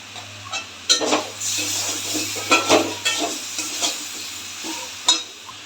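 Potato, pumpkin and Malabar spinach stems sizzle in a pan with cumin, coriander and ginger paste, while a utensil stirs and scrapes in repeated close bursts over a constant frying hiss.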